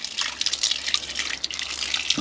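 Rusty brown water flushed out of a home heating system pours into a drain with a steady, close splashing trickle and scattered drips.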